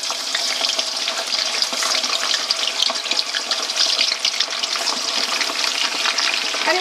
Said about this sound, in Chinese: 把猪蹄下锅炸